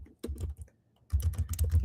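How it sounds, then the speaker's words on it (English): Rapid typing on a computer keyboard during a cloud infrastructure setup, a short close burst of keystrokes, a pause, then a denser run of clicking keys. "if I'm able to type correctly"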